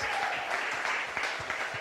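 A church congregation claps in sustained applause for Jesus during a worship service, a dense, steady wash of many hands filling the room.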